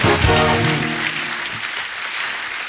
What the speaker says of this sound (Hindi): कंगना जी के लिए जोरदार ताली हो जाए।